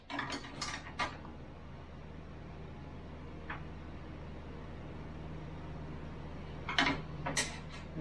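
A hand ratchet tightens bolts on the bumper of a Ford F-350 in a workshop, quick clicking bursts at the start and again near the end, over a steady low hum of background noise.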